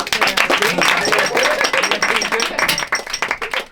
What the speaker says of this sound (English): all of a sudden the entire room spontaneously bursts into a round of applause